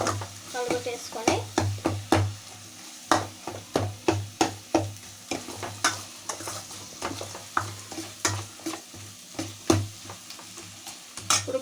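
Gongura fish curry being stirred and mixed in a pan, with repeated close scraping strokes in a steady rhythm over a low sizzle.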